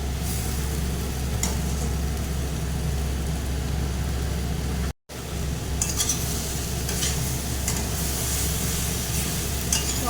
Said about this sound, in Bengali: এটাকে অনেক কষাতে হবে 10-15 মিনিট।